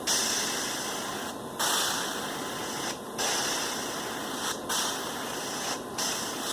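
An airbrush or spray can sprays paint onto a scale model in steady hissing bursts, five or so sprays separated by short pauses, close and fairly loud with no talking.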